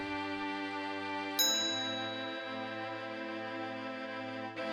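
A single bell strikes once with a bright attack and a long, slowly fading ringing tone under a sustained background drone, marking the start of a recitation of Psalm 23.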